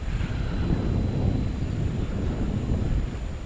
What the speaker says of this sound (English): Quite a breezy day. I'm hoping my voice comes out okay on this.